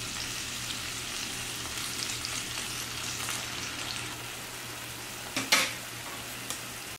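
Chicken simmering in pineapple juice in a pan for pininyahan manok, giving a steady soft sizzle and bubbling hiss with a couple of brief clinks or stirs near the end, no talking.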